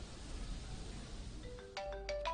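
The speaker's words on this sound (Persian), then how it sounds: "انگار تلفنتون داره زنگ میزنه" A phone's ringtone breaks in over steady background hum, a short run of bright melodic beeps rising in the last second, with no one speaking.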